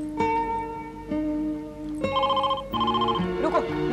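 A telephone rings in a TV drama scene, several clear electronic ring bursts in sequence, loud and close, with a brief voice near the end.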